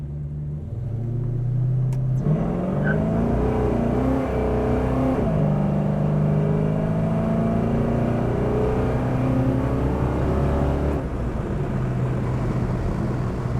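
A 1972 Chevrolet Chevelle SS 454 accelerates on the road, its big V8 droning loud and close, rising in pitch and then dropping at each of several gear shifts, with a steady rumble underneath.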